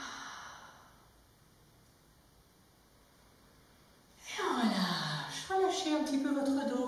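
A soft, breathy exhale during a Pilates exercise comes at the start, quiet and close, followed after a pause by a voice speaking clearly.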